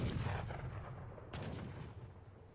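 Tower cannons fire in Age of Empires 3: Asian Dynasties, two heavy booming shots about a second apart with rumbling decay over continuous low battle noise.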